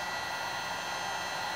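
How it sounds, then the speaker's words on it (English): A heat gun blowing hot air to soften sticker adhesive while debadging a Ford Escape SVT, heard as a steady, close, even hiss of rushing air with no pauses. "Got hit with my heat gun again, just to soften up the adhesive that's already on it"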